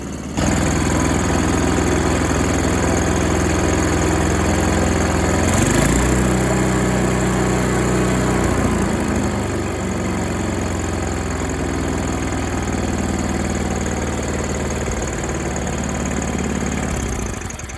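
An MTD snowblower's 5 HP Tecumseh engine idles steadily nearby, a continuous loud chugging drone with a slight shift in pitch partway through.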